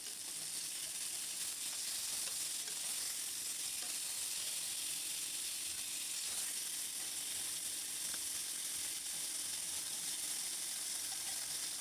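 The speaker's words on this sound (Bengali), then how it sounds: "এই যে মাথাটাকে ভালো করে উল্টিয়ে পাল্টিয়ে ভেজে নিচ্ছি" Big fish head frying in hot oil and being turned over, a loud, dense, steady hiss of sizzling throughout with faint clicks of handling, close and with no talking.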